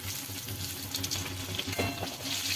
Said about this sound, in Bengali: এগুলোকে হালকা করে ভাজতে হবে।